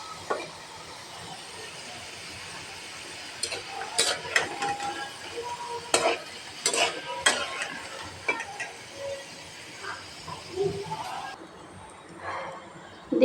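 French fries fry and get stirred in a pan, with a soft steady sizzle. Scattered sharp scrapes and clinks from the utensil come in irregular bursts.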